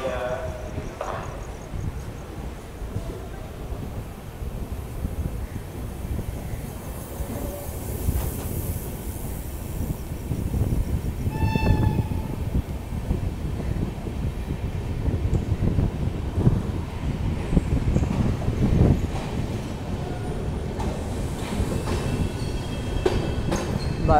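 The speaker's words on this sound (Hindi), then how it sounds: "इसी के साथ ट्रेन हमारी डिपार्ट कर चुकी है और हम वर्धमान लीव कर रहे हैं धीरे धीरे," A passenger train on the Howrah to New Jalpaiguri Puja Special pulls away from Bardhaman, heard from onboard in sleeper class as a continuous rumble with rattling wheels and brief squeals, and a voice talking over it.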